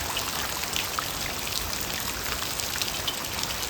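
Steady rain falls in Chhapi village of Vadgam taluka, a dense even hiss of drops pattering on surfaces with scattered sharper plinks, continuous and fairly loud with no voices.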